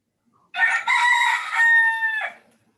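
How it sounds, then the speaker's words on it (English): A rooster crows just outside an open window of a beach cottage, one long loud cock-a-doodle-doo rising and holding for nearly two seconds, close and clear against a quiet room. "Enough crowing."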